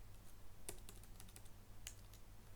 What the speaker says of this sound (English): I don't know if you can hear the typing sounds.